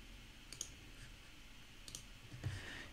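A few crisp computer mouse clicks during a software webinar, three sharp isolated taps spaced about a second apart over a faint steady hum.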